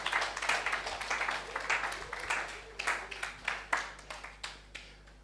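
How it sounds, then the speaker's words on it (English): Scattered clapping from a group, loosely rhythmic and fairly faint, thinning out into separate individual claps toward the end over a low electrical hum. "Let's clap, let's clap,"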